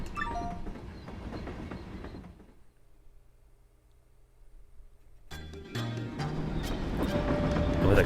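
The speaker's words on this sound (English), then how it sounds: "This train will soon be making a brief scheduled stop at Riverside Station." A train in Paper Mario: The Thousand-Year Door clatters along, fades to a near-silent lull with a faint hum, then surges back louder with rumbling wheels and ringing tones.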